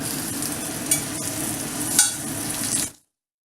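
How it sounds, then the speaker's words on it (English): A dry-aged beef ribeye steak sizzles loudly in hot oil in a pan, a steady crackling hiss with a couple of brief sharp pops before it cuts off. "You should hear this sizzling noise."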